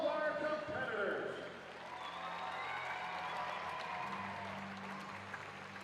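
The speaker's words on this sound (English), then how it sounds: "How about a big round of applause for all of our competitors?" A gymnastics meet crowd at an Iowa arena applauds and cheers the Nebraska and Iowa competitors. The applause is a broad wash that fades a little, while an amplified announcer's voice sounds over it.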